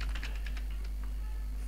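Rapid clicking of keys on a computer keyboard, close and fairly light, a quick burst of taps in the first second that then thins out over a steady low hum.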